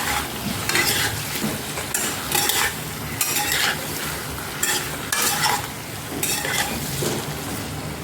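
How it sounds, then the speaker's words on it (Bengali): Spices with ginger-garlic paste sautéed in a pan, stirred in repeated scraping bursts over a steady close sizzle with clinks of the spoon against the pan, no voices. "সব উপকরণ দিয়ে 1 মিনিট কষে নেব।"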